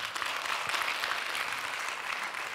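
An audience at a corporate training event applauds, a dense, even clatter of many hands clapping at moderate volume, steady throughout.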